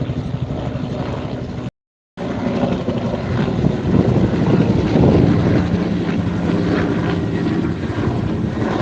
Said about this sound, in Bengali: দেখতে পাচ্ছেন বিমান যাইতেছে